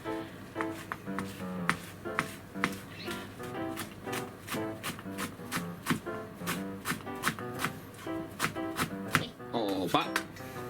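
A knife chops washed shiso (perilla) leaves on a cutting board in quick, steady, close strokes, with some speech or background sound underneath.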